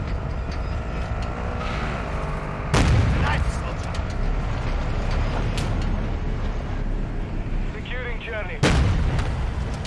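Gunfire from the Call of Duty video game rolls through a dense, noisy battle mix, with two heavy booming blasts standing out, while in-game voices speak over it.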